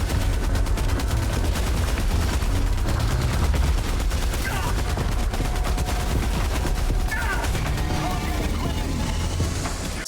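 Heavy machine gun firing in the video game Helldivers 2, a loud, sustained rapid burst of shots running continuously through the whole stretch with dense overlapping impacts.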